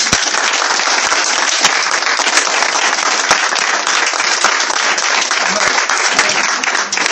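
A church congregation at a village prayer gathering applauding to acclaim the Lord, a loud, dense, continuous wash of clapping from many hands, close and steady throughout.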